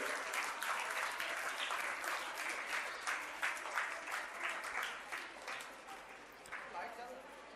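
Schoolchildren and guests at an English school's annual prize distribution ceremony in Bhiwandi clap loudly to welcome the guests. Dense, steady applause fills the room and continues for several seconds, thinning slightly toward the end.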